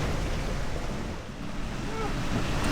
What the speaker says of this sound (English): right in the thunderstorm now